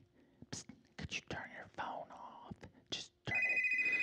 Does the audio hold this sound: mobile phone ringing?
yes